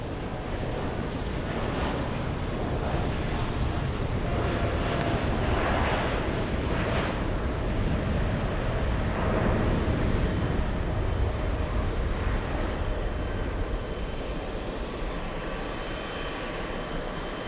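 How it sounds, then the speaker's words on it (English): An American Airlines Boeing 787 Dreamliner on its takeoff roll, bound for Haneda, fills the air with a steady, loud, broadband jet roar that holds for the whole stretch with no voices over it. "Let's go for the American Airlines 787 Dreamliner. It's on the roll."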